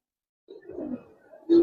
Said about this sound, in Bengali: কবুতর দেখেন সম্পূর্ণ লাল গিয়া